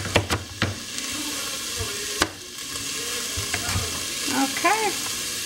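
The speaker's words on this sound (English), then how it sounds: "Hear that sauteing in my pan?" Vegetables sauté in a pan with a steady close sizzle and hiss, punctuated by clinks and scrapes of stirring, plus a few short squeaky tones near the end.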